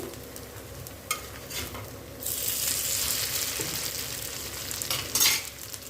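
Vegetable pancake sizzling in a pan, with a steady close frying hiss that swells after a quieter start and a few faint utensil scrapes.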